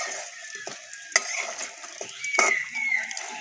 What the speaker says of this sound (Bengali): উল্টিয়ে পাল্টিয়ে ভালো করে ভেজে নিয়েছি। একটু লাল লাল করে ভাজতে হবে।